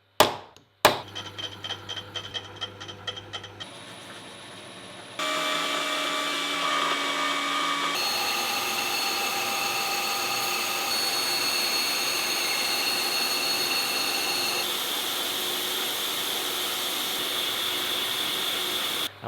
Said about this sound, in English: And now I'm going to drill here so I can do these little choily bits